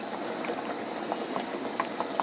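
Cucumber gharge fry in hot oil, making a dense, even bubbling hiss with a few soft pops rising through it, heard up close with no talking.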